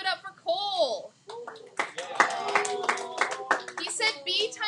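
Scattered applause from students in a high school algebra classroom, a few hands clapping in loose bursts that mix with children's and a teacher's voices talking over them.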